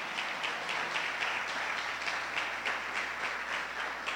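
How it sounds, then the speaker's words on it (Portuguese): A church congregation applauds together at a Sunday service, a steady wash of many hands clapping with faint rhythmic pulses, continuous and moderately distant throughout. "enquanto a igreja aplaude ao Senhor"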